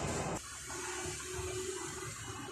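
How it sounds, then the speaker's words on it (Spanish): Water gushes out of a burst balloon after a sharp pop at the start, then keeps flowing in a steady, fairly loud splashing stream until the end, with no talking. "tengo que romper el globo y botar el agua"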